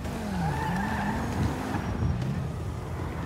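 Car engine running in Grand Theft Auto V with tires skidding and squealing, a steady close roar of motor and tire screech throughout, alone without talk.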